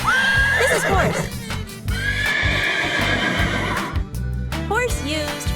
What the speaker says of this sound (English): Horse. This is horse.